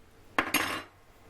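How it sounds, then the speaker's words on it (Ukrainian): A spoon scoops marble cookie dough from a bowl in a home kitchen, giving two quick close metallic scrapes and clinks followed by a short soft drag, with no talking. "Ложкою набираю тісто"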